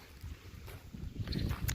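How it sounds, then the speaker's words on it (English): Low, steady rumbling wind buffets the microphone, gusting a little stronger toward the end. "the wind's blowing so hard"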